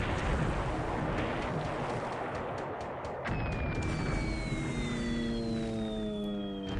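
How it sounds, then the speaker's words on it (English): A video-game bomb bursts below deck on a warship during a Coral Sea naval battle, a heavy rumbling blast followed by a long roar, with rising and falling whistles or sirens trailing off afterward. "Explosion below deck."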